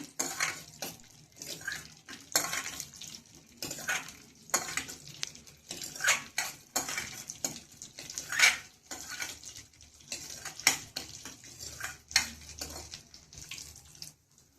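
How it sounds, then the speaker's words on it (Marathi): Cashews and almonds frying in ghee in a pan for pumpkin kheer give a busy crackling sizzle, broken by irregular bursts of stirring and scraping against the pan, with no one talking. "छान तुपामध्ये तळून घ्यायचे ते आपल्याला आधी"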